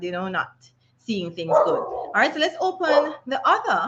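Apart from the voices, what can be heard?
several dogs barking in the background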